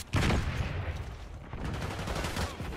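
Rapid gunfire rattles in Black Ops 6 on the Nuketown map, a loud opening burst followed by scattered volleys and bursts of automatic shots.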